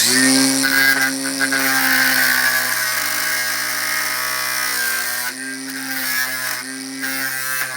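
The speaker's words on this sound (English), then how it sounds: "What I'm going to do is get the grinder" A grinder whirs steadily on a wooden board chair to cut off protruding nails, producing a sustained mechanical whine with slight pitch shifts, close and loud with no talking.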